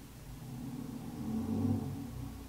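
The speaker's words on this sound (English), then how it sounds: "There's a loud car." A car's engine rumbles and swells as it passes nearby, growing louder toward the middle before easing off.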